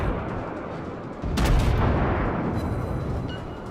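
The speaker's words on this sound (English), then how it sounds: "let's see how these guns do for accuracy" Warship guns firing in the naval video game World of Warships, a single heavy boom that swells and rolls on as a long rumbling tail over steady engine and ambient noise.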